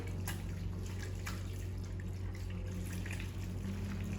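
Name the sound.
running tap water rinsing hands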